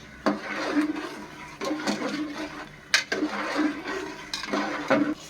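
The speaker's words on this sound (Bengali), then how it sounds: "ভালো করে নেড়ে নেওয়া হচ্ছে।" Pulao with sugar being stirred in a pot: a series of close scraping and clinking strokes, roughly five bursts in an uneven rhythm, fairly quiet against light background noise.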